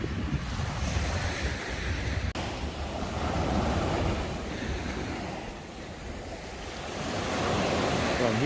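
Surf rolling onto Chaweng Beach on Koh Samui, Thailand, a continuous wash of waves with heavy wind buffeting the microphone, steady and fairly loud with no voices.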